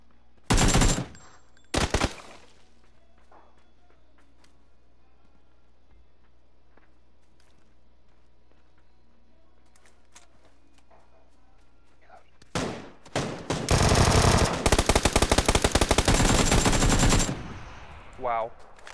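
Bursts of rapid automatic gunfire in a multiplayer shooter game crack out, two short volleys at the start and a long loud sustained stream later, separated by quiet stretches of faint footsteps.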